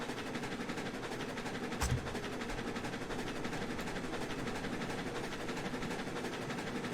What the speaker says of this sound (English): It's fun to watch trains move